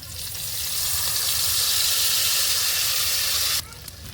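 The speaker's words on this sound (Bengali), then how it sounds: "মশলাগুলো একটু ভেজে নেব" Spice paste of garlic, ginger, poppy seed, cashew, melon seed and fried onion frying in hot oil for chicken chaap, a loud steady hiss for about three and a half seconds that then drops off abruptly.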